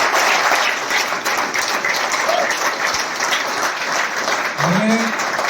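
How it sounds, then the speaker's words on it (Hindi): Applause from a large audience at a Vestige direct-selling company event, a dense, steady wash of clapping filling the whole stretch, with a brief voice rising through it near the end. "तो यार खुशी से तालियां बजाओ।"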